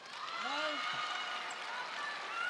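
Table tennis crowd at a Ma Long versus Fan Zhendong match in Qatar, cheering and applauding steadily as a broad wash of noise, with voices calling out and a commentator talking over it.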